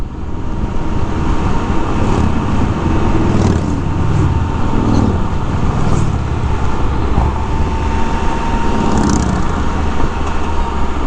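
A demo motorcycle on a ride at the Sturgis Rally, with a loud, steady engine drone that holds strong throughout, its tone rising and falling slightly as it pulls away without pause.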